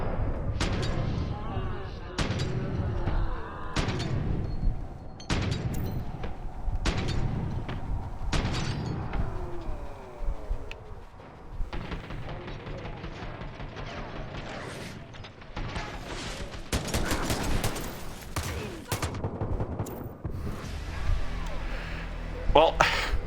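Repeated handgun shots ring out in the Far Cry: New Dawn video game, sharp loud cracks spaced a second or so apart amid other game noise and a thicker flurry of firing later.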